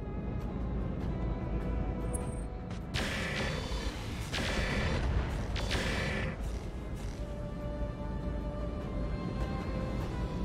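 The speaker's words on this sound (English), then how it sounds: "Long range missiles are out." A volley of long range missiles launched from a Clan tank in a Battletech mod: several sharp whooshing blasts in quick succession, then a fading mechanical rumble, quiet overall.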